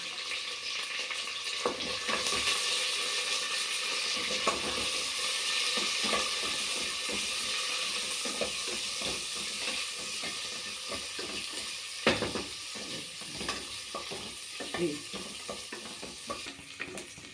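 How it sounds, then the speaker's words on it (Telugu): Onion and curry leaves sputter and sizzle in hot oil, a steady close hiss with frequent stirring scrapes and crackles throughout, no voices. "కొంచెం బ్రౌన్ కలర్ వచ్చేంత వరకు ఫ్రై చేసుకోండి"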